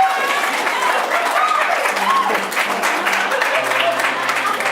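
An audience at a live main stage show claps and cheers, a continuous wash of applause with voices and whoops mixed in, fairly loud and close throughout.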